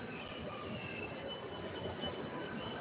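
A metro train rumbles through a large station, a steady low roar of wheels and carriages with faint high squeals now and then, fairly close and continuous with no talking.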